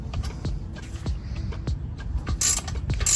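A 14 mm wrench tightens a bolt on an HKS axleback exhaust fitted to a Lexus IS 250, producing a steady series of sharp ratcheting clicks about every half second, close and fairly loud, with no talking.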